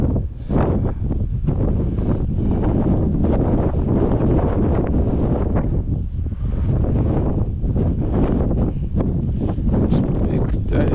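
Strong wind gusts buffet the microphone on a coastal hike up to Captain Cook's Monument, a loud continuous roar with surging bursts, while people talk faintly underneath.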